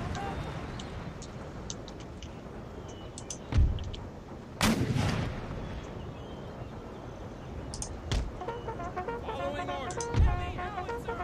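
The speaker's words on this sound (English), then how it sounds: "Let's give the arty something to shoot at." Artillery fire in a video game battle: several booming impacts spaced a few seconds apart, heavy and fairly loud, over a busy background of clicks and game sounds.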